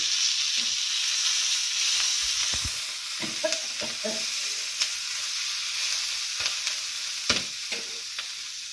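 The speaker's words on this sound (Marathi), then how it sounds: "योग दिसतंय यांना तळून घ्यायचे लसणाला बी" Garlic and chillies frying in oil for a village-style tomato chilli thecha, a steady close sizzle with irregular spoon scrapes and clicks, no talking.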